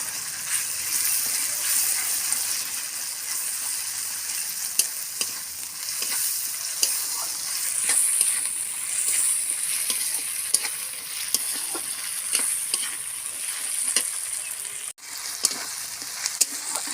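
Ginger and garlic fry in a pan, giving a continuous, moderate sizzle with faint scattered crackles and stirring scrapes, and no voices.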